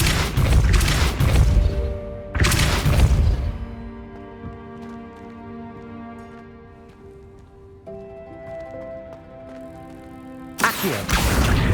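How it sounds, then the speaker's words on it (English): The Depulso spell is cast in the Hogwarts Legacy video game, with heavy booming blasts at the start and end and sustained tonal magical shimmer between them. "Depulso."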